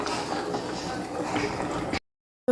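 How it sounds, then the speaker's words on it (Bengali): A bottle gourd and fish curry simmers in a pot with a steady wet bubbling and sputtering for about two seconds, then goes abruptly silent before a brief sound at the end. "মাছ দিয়ে লাউ রান্না করছি আজকে"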